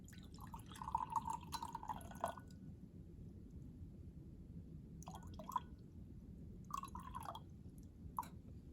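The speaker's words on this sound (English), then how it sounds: "now I'm going to add approximately 100 grams of water" About 100 grams of water is poured into a beaker in a physics lab on specific and latent heat, heard as quiet, splashy bursts of liquid that stop and start over a soft background hiss.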